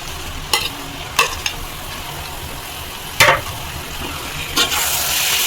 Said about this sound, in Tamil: வெங்காயம் வதங்கிடுச்சு, தக்காளியை போட்டு நல்லா வதக்குவோம்.